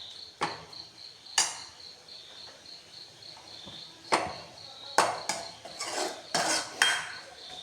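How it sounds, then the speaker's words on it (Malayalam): Mango pickle being stirred with vinegar, a spoon knocking and scraping against the container in scattered sharp clinks that cluster toward the end, with a steady insect-like hiss underneath and no talking. "എന്നിട്ട് നല്ലോണം ഇളക്കുക."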